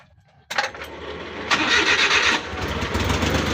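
A freshly overhauled Suzuki F6A engine cranks briefly and catches, then settles into a steady, close-up idle with a rough mechanical clatter that swells as it picks up.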